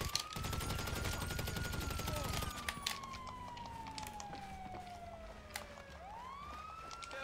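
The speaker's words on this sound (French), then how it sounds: "J'ai pas vu d'où venaient les balles" Rapid automatic gunfire crackles in GTA Online for the first few seconds, then scattered shots ring out while a police siren wails and sweeps steadily in the background.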